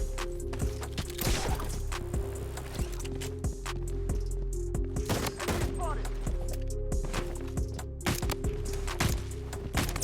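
A Magnum fires in the shooter game Blood Strike in a series of loud, punchy gunshot bursts at irregular intervals, layered over a steady background music track.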